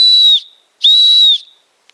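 Two loud, piercing blasts from a small ball-less Leatherman Signal survival whistle, each held about half a second with a short gap between them, sounding clean and steady with no rattle.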